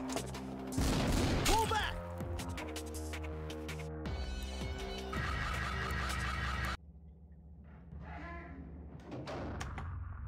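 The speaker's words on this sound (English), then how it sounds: "Shots fired!" Electronic gunfire effects and chiming tones from a Zaccaria pinball machine during play, loud and busy, with layered bursts and jingles that drop to a quieter stretch near the end.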